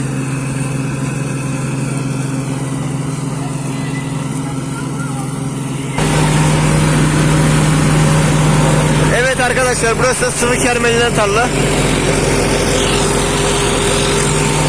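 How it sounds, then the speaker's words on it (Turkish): A Massey Ferguson 398 4WD tractor engine runs steadily at about 1000 rpm in a field while cutting clover for silage. The drone is loud and constant and grows heavier partway through, with someone speaking over it. "Traktör bin devirde çeviriyor şu anda."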